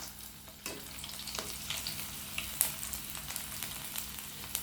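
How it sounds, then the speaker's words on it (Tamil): Crushed garlic cloves fry in a pan of oil for snack mixture, with a continuous soft sizzle and a few sharp stirring scrapes, close by and with no voices. "இப்போ 3 to 4 பல் பூண்டு தட்டி இதில் சேர்த்துருக்குறேன். இதையும் சேர்த்து ஃப்ரை பண்ணிக்கலாம்."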